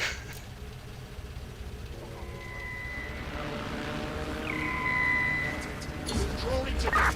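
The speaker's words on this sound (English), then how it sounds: "That drone very nearly spotted me." A surveillance drone in the game Watch Dogs: Legion hums overhead, a steady rising and falling whine over a low rumbling game soundscape with no voices, growing a little louder toward the end.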